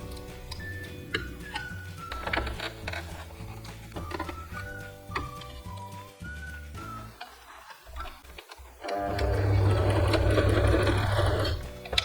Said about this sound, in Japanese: 一応ミシンの部分はこれで終わりです。